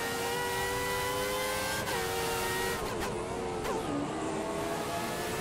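Formula 1 car engine racing around the Imola circuit in a video game, a loud steady high-pitched whine with quick pitch shifts on gear changes.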